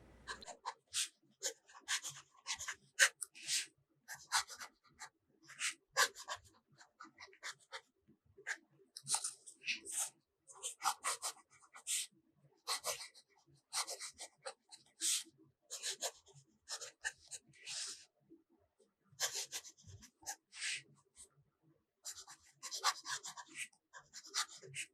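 A broad nib fountain pen writes on paper close up, making crisp scratchy strokes in short irregular bursts with brief pauses between words, steady and quiet with no talking.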